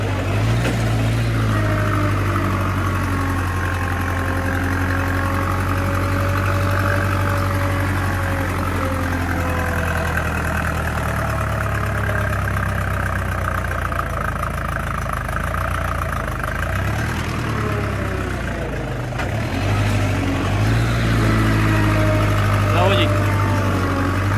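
A Farmtrac 6055 tractor's diesel engine runs steadily at idle, a loud low throb that stays close and continuous with a brief dip partway through, while someone talks over it.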